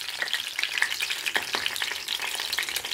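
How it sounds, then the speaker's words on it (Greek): Eggplants sizzle in hot oil in a frying pan, a steady close crackle and spatter with brief stirring scrapes, no voices. "Να τις περάσουμε λίγο από το τηγάνι."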